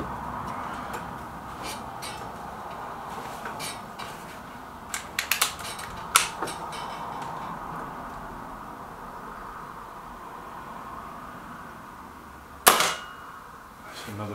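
Sharp, bright cracks of an MP500 air gun being fired at a target, with a cluster of quick shots in the middle and one louder, crisper shot near the end over a steady background hum.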